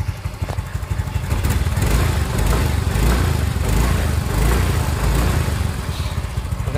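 A Yamaha Mio i 125 scooter with a newly installed TPS idles steadily and close by, its engine putting out a loud, even, throbbing putter throughout.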